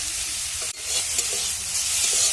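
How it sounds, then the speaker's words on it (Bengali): Small diced eggplant frying in hot oil in a kadai, a steady close broadband sizzle throughout with a brief dropout near the start and faint stirring clicks. "এবার বেগুনগুলোকে একটু ভাজা করে নেব।"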